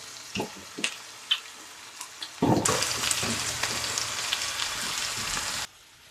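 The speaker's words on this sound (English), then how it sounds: "Now I'm going to put some butter in here, some mushrooms." Mushrooms hit hot butter in a pan with a sudden burst of steady, close sizzling that runs for several seconds, preceded by a few light taps and clinks.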